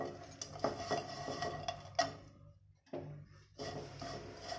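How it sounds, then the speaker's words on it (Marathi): Dry grated coconut is roasted in a pan and stirred with a spatula, making close clattering scrapes and knocks against the metal in uneven bursts with short pauses. "अशा प्रकारे मी सगळं खोबरं हळूहळू भाजून घेते"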